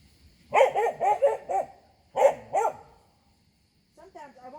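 A dog barks in a quick run of several sharp barks, pauses, barks twice more, then a person speaks quietly.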